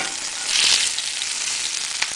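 A beef burger patty fries steadily in a hot pan, giving a loud, continuous close-up sizzle with small crackling pops throughout and no talking.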